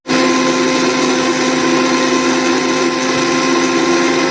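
A mixer grinder whirs loudly as it grinds onion fine, starting abruptly and holding a steady high motor drone for a few seconds, alone with no voices.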